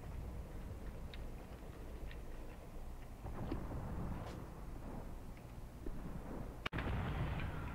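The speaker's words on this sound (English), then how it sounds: "My regimental guns or anti-tank guns have finally found this German position." Regimental and anti-tank guns fire in the Graviteam Tactics WWII game set around Kharkov 1942, with muffled distant booms and scattered cracks over a constant low rumble, and one sharp, loud report near the end.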